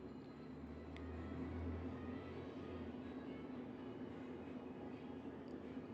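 A train runs on the nearby Padma Bridge rail line as a steady low rumble and hum that holds at a moderate distance throughout, with no talk.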